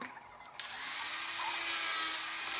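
A power drill bores into a wooden teak cabinet door. A click is followed by the steady, high whine of the motor, which holds close and level to the end.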